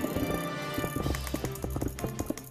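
Office computer mouse clicked rapidly during Minecraft bridging, a dense run of sharp close-up clicks in uneven bursts, loud and alone.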